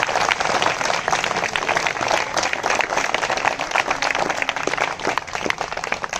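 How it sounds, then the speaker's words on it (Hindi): Steady, thin applause from an audience at a hunger-strike protest rally, continuous dense clapping at a constant moderate level throughout with no pauses. "बहुत कमजोर तालियां हैं ये"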